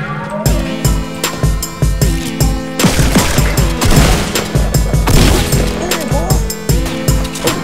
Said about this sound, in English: Oh, being shot at from somewhere else.